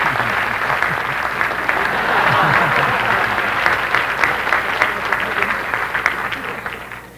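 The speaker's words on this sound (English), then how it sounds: "And a nice round of applause to Mrs." An audience at a law school public service conference applauds Mrs. Kaplan. Loud, sustained clapping from a large crowd swells in the middle and tapers off at the end.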